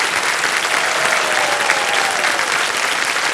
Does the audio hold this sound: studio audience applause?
yes